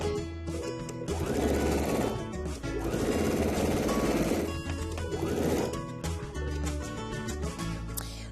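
Sewing machine stitching a notched collar with facing, running in steady sustained bursts close up and fairly loud, with a brief pause near the start and again around the midpoint.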